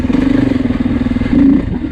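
A 2024 Beta 430 Race off-road motorcycle engine revs hard from low RPM, a loud, close, steady throbbing drone that swells again near the end, with no talking.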